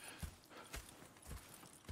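Horse hooves clip-clop in Red Dead Redemption 2, a few soft, spaced steps at moderate distance over a faint ambient background.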